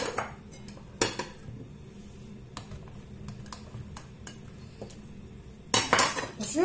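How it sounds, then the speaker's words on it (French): Marinated eggplant and potato pieces are tossed in a dish with a utensil, giving soft scraping under a low kitchen hum, broken by a few sharp clinks and a louder clatter near the end. "Je vais tout mélanger."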